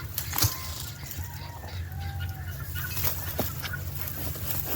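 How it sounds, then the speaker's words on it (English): Guinea fowl calling in the background of a farmyard, a few faint intermittent cries over steady low ambient noise, distant and without talk. "Sorry about the guineas in the background."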